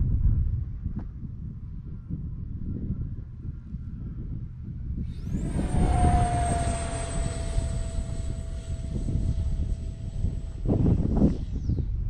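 The jet motor of an X-2100 RC glider spools up midway to a high, steady whine that holds for several seconds and then cuts off, heard close over wind and background rumble, with no talk.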